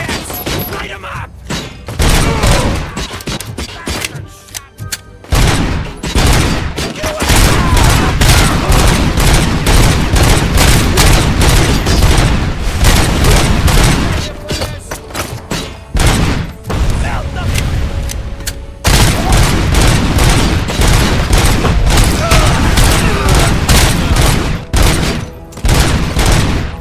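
Dense, loud gunfire from a RoboCop: Rogue City shootout, with rapid bursts and booming impacts nearly continuous throughout, broken by brief lulls, and voices shouting amid the shooting.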